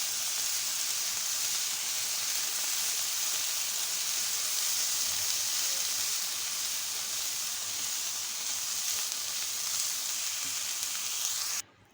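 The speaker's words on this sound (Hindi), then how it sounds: "इस स्टेज पे हम शिमला मिर्च ऐड कर देंगे। अच्छी तरीके से इसको 2 मिनट के लिए भून दीजिए इसमें।" Capsicum sautés in a hot pan for chicken white sauce pasta, a loud, steady, close-up sizzle that holds evenly throughout before cutting off abruptly at the end.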